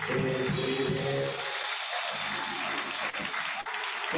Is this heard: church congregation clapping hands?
yes